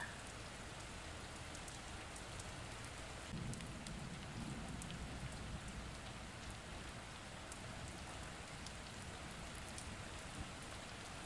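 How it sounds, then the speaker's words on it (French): Steady rain patters against a window pane in a constant, dense hiss, evenly textured and unbroken throughout, with no voices. "Écoutez les bruits de la pluie qui caressent votre vitre et vos oreilles."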